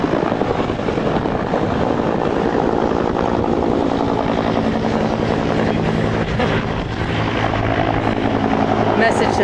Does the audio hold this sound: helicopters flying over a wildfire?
yes